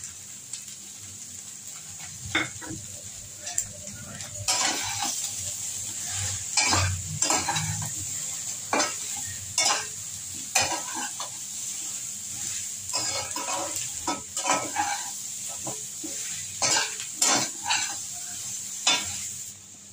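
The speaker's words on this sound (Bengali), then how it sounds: "এবার আমি একটু নেড়ে নিচ্ছি" Fish head and Malabar spinach fry in a pan with salt and turmeric, giving a soft, steady sizzle broken by irregular scraping stir strokes and light utensil clinks, fairly quiet and without speech.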